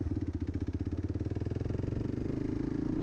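A Kawasaki KLR motorcycle engine on a short test ride after a carburetor needle adjustment, a steady rhythmic single-cylinder thump that rises slightly in pace as the bike speeds up, close and continuous with no talking.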